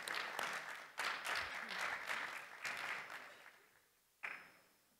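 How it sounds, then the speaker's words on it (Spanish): An audience applauding at an education summit, bursts of clapping swelling and fading in several waves before a final short burst that trails off, fairly close and dense. "Un aplauso, por favor."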